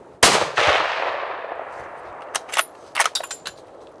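A 7mm Rem Mag rifle fired at a deer during hunting season: one loud, sharp shot whose echo rolls away over a couple of seconds, followed by faint rustling and small knocks nearby.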